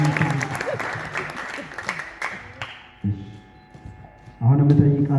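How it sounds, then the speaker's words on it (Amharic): Wedding guests clapping and applauding at a church ceremony, a steady burst of crowd applause that fades before swelling loud again at the end, with voices mixed in. "አጨብጭቡልኝ።"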